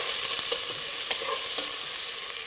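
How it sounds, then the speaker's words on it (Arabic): Onions frying in hot olive oil for red lentil soup, a steady broadband sizzle with light scraping stir clicks scattered through, close and continuous with no talk. "زيت الزيتون راه سخن، نحط عليه البصل، نقليو البصل مليح مليح"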